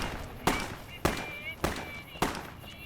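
Gunshots in Fallout New Vegas ring out at a slow steady pace, four sharp loud reports about half a second apart, each with a short echoing tail over faint ambient noise.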